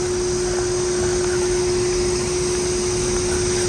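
An old outdoor air conditioner unit from around 1998, with a motor in need of replacement, runs steadily with a loud, constant hum and a strong tonal whine, unchanging throughout.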